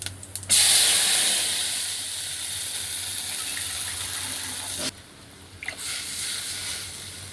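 Cumin seeds and dried red chilli frying in hot oil for kadhi produce a loud, steady sizzling hiss close up, which drops abruptly partway through and then resumes more quietly.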